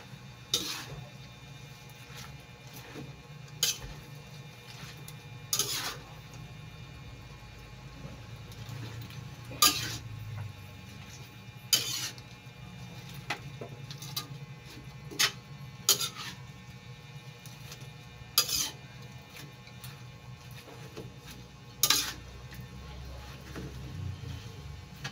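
Kangkong stirred in a pan for adobong kangkong with tokwa, a metal utensil scraping and clinking against the pan in irregular sharp knocks over a low steady sizzle, close and fairly loud.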